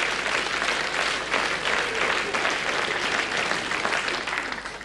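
A theatre audience at a Hungarian comedy stage performance claps loudly and continuously, a thick sustained burst of applause that thins slightly toward the end.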